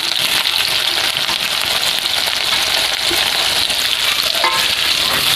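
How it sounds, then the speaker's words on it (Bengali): Chopped onion frying steadily in hot oil until reddish, a dense, continuous sizzle that holds close and loud throughout with faint stirring clinks. "পেঁয়াজটাকে আমি লাল লাল করে ভেজে নিয়েছি।"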